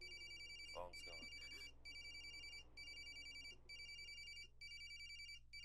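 Repeating electronic phone ringtone in the Corpse Party remake video game, a bright trilling ring in regular bursts with short gaps, steady and fairly loud over a low hum, with a brief voice early on.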